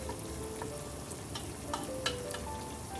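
Dal ingredients frying in a pan give a steady, moderately quiet sizzle with faint scraping and crackle, heard alone.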